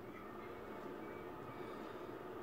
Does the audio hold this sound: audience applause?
no